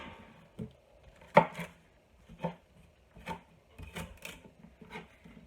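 A knife cuts through soft onions with leaves for a stock, giving about eight or nine separate chopping thuds at an uneven pace, close and fairly quiet, with near silence between the cuts.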